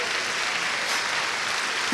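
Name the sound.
audience applause in church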